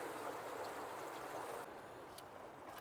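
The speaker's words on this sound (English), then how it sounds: "look how high the river is now" A swollen river in rural Thailand rushes beneath a bridge, a steady, loud wash of broadband water noise that continues without a break.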